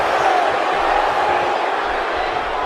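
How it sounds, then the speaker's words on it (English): Video game wrestling crowd in WWE 2K18 roars with steady, dense cheering and chanting throughout, loud and continuous with no pauses. "This crowd's going crazy."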